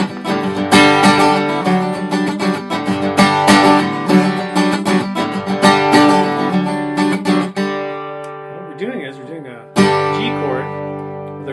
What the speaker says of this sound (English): So the strumming part sounds like this.